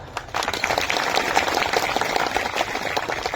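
A crowd claps for a speech at a festival, the applause rising abruptly after a brief quiet moment and then holding as a steady, dense patter of many hands.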